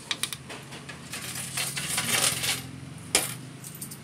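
Coins dropped one after another into a DIY centralized coin slot at a shop, bright metallic clinks and jingles in a quick irregular run, close and fairly loud.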